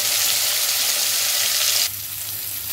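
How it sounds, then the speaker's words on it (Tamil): Peeled, boiled tomatoes sauté in ghee in a pan with a steady, close sizzle that drops a little in loudness near the end, and nobody speaks. "இப்போ வேக வச்சு உரிச்சு வச்சுக்க தக்காளியை அதில் நல்லா வதக்கிடுங்க."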